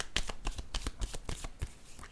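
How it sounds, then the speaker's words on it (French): Oracle cards being shuffled by hand, a quick run of crisp, close riffling flicks in an even rhythm, about a dozen taps over two seconds, alone and fairly quiet. "Je vais piger une autre carte."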